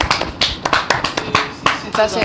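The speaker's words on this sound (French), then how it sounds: "Est-ce qu'on peut applaudir pour ça?" Audience clapping in a small room, a loose scatter of separate hand claps with uneven rhythm, close and fairly loud, mixed in with talking voices.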